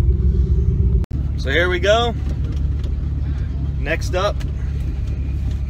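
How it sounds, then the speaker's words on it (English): F23A turbo Acura CL race car engines running, a deep continuous rumble that briefly cuts out then returns, with someone talking over the idle in two short bursts. "we're firing up the cars, it's time to roll"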